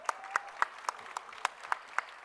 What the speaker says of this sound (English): Please stand up so that we can applaud you if any of you are here in the house.